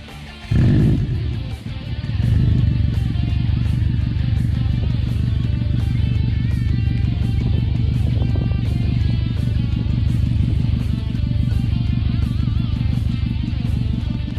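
A Subaru WRX engine with a 3-inch turbo-back custom exhaust cranks and starts with a sudden roar, then settles into a steady, loud, throaty idle that continues throughout.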